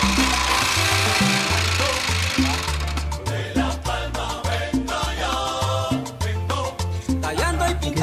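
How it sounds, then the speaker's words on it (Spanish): A wooden handicraft being smoothed with sandpaper by hand, a close, loud rasping scrape repeated in quick back-and-forth strokes that grow faster and choppier. "aquí venimos y le damos lija, que quede pulido esto con lija aquí."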